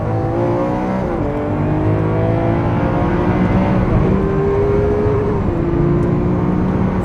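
A Lamborghini Aventador SV engine drones loudly from inside the car, rising and shifting in pitch as it accelerates and eases off, a continuous close mechanical roar with no talking.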